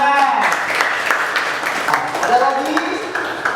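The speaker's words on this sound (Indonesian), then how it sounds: "Oke, beri tepuk tangan." A classroom audience claps in steady applause for a few seconds, dense and fairly loud, with a teacher's voice speaking over it.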